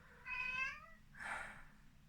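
A cat gives two clear, close meows in a row: a drawn-out tonal call followed by a shorter, brighter one, against a quiet background.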